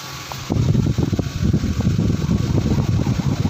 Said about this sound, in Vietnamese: Đấy, nó thổi rất là mạnh nhỉ.